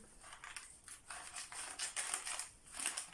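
Scissors cut through a paper sewing pattern while darts are adjusted, a steady series of close, crisp snipping and sliding blade strokes repeating in an even rhythm with no talking.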